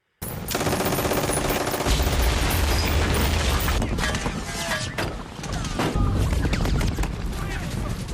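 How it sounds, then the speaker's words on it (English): Loud, dense gunfire from the 1998 war film Saving Private Ryan, with rapid automatic bursts, bullets ricocheting off metal helmets and rumbling explosions, nearly continuous and chaotic throughout. "all the bullets are ricocheting and the explosions and the sound of the bullets hitting the metal helmets"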